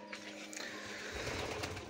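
Domestic pigeons coo softly in a short, faint burst of low, throaty calls close by in an indoor loft.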